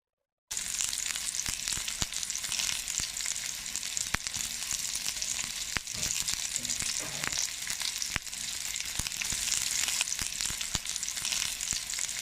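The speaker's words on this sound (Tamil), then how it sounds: "இப்போ ஒரு சோமாசியாக நம்ம வந்து எண்ணெயில் போட்டு பொரிச்சு எடுத்துக்கலாம்." Sweet somas, also called karchikai, deep-fry in hot oil over a medium flame, a dense, even crackling sizzle that starts abruptly after a brief silence and continues with small pops and occasional utensil taps.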